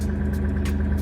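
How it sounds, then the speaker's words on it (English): A modified 600+ horsepower Subaru Levorg engine runs with a noise fault, giving a steady, dense, rumbling drone heard up close for about a second. "the LEVORG engine sounds like this."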